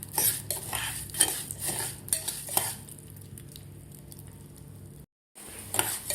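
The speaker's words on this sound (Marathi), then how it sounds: "व्यवस्थित आपल्याला तुपामध्ये परतून घ्यायचे आहेत तांदूळ" Rice roasting in ghee is stirred with a metal spoon, clinking and scraping against the pot over a light sizzle, busy at first and then quieter, with a brief dropout near the end.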